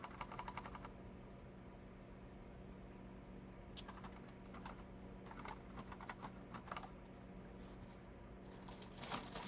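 Fingers type on a computer keyboard during a coding session, producing soft, close, irregular clicks and clatters in bursts with short pauses, all at a quiet level.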